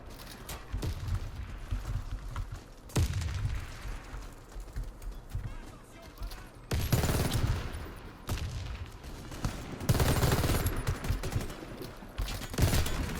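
SMG-9 Ares Gold submachine gun fire from the shooter Warface comes in several loud, sharp bursts separated by short pauses, mixed with clicking weapon mechanisms.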